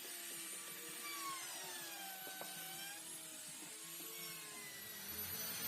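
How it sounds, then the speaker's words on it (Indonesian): High-pitched whine of a small trimmer router trimming excess HPL laminate edges flush with wood, pitch sliding up and down as it cuts, fairly quiet and continuous. "Mesin trimmer ini berfungsi memotong sisa HPL agar bisa presisi dengan kayunya"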